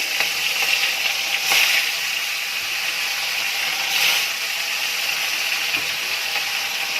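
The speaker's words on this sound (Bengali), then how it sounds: "কড়াইতে তেল গরম হয়ে গেছে, মাছটা দিয়ে দিচ্ছি।" Live rohu fish sizzling in hot oil in a wok, a steady bright frying hiss with crackles and a few louder spits, close and continuous without talk.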